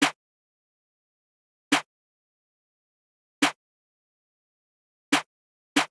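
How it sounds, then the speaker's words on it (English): Trap clap and snare hits from a Bronx drill beat, sharp isolated cracks spaced evenly about every 1.7 seconds, each short and snappy with silence in between, loud and dry. "just go with the regular trap clap slash snare pattern"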